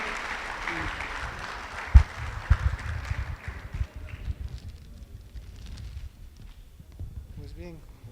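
An audience applauds a doctor, the clapping loud and dense at first, then thinning and fading over several seconds, with a few heavy thumps and faint voices underneath.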